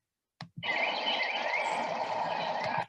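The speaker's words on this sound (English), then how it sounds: "that's the call of the white-throated sparrow" A white-throated sparrow's sustained buzzy, hissing zzz call held for over two seconds, loud and close, preceded by a couple of faint clicks.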